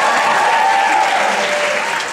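A graduation audience at a high school ceremony cheers and applauds, a full sustained burst of clapping with raised voices that holds steady and begins to taper at the end.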